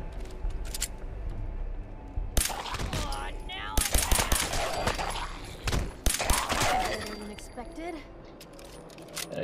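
Bursts of rapid automatic gunfire and scattered shots ring out in a Fallout 4 firefight, loud and crackling, with a voice talking over the fight.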